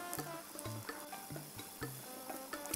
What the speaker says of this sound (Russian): Обжариваем на средней температуре до золотистой корочки.